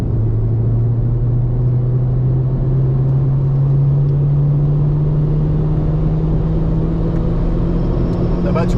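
A race car on a circuit accelerates out of a corner, its engine note climbing in a long, steady, close and loud drone, with an instructor's voice heard over it.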